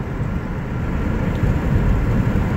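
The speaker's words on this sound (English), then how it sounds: "is actually watch these planes land." Low, steady roar of airplanes landing at McCarran Airport in Las Vegas, a continuous broadband rumble that builds gently, with no voices over it.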